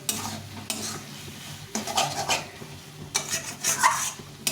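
Cabbage stirred and fried in a pan: repeated scraping spatula strokes over a steady sizzle, close and fairly loud, with no talking.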